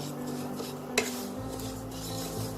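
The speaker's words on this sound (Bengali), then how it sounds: "ডালটা সুন্দর একটা ভাজা ভাজা গন্ধ বার হওয়া অবধি আমি এটাকে ভাজবো।" Dal for Bengali bhuna khichuri is dry-fried and stirred in a pan, with a quiet, steady scraping hiss and one sharp clink of the utensil against the pan.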